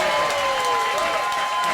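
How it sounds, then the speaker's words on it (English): Audience applause for George Clinton at an awards interview, a dense steady wash of clapping from a crowd, with a voice heard over it. "Come on, y'all can give George a bigger applause than that"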